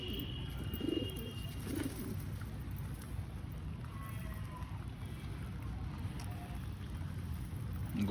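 Soft low cooing from a flock of household pigeons, mostly Madras birds with a few white-eyed ones, repeated at close range over a steady background hum.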